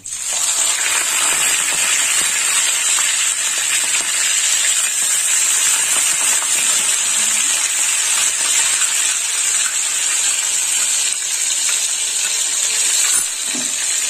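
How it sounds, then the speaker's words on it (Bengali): Onion paste hitting hot oil with tempering spices in a pan, a loud, steady sizzle and hiss that holds for the whole stretch, with no voices. "ফোড়নটা ভাজা হয়ে গেছে, এবার দিয়ে দেবো পেঁয়াজ বাটা।"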